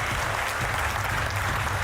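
Dense, sustained applause from a large standing-room-only audience at a high-level plenary event, steady and close throughout without any voices rising above it.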